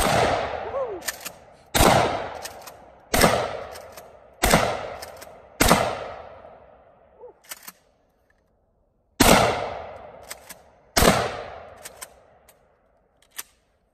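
Mossberg 590 shotgun fired outdoors in a series of loud, sharp blasts, roughly six heavy reports spaced one to two seconds apart with ringing decay and a few smaller clacks of the pump action between shots.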